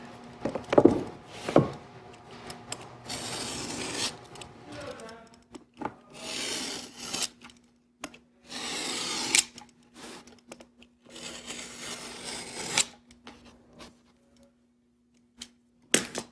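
Sharp knife trimming leather on a pneumatic stop action, heard as bursts of close scraping and rasping cuts separated by short pauses, with occasional light knocks and a steady low hum underneath; no talking.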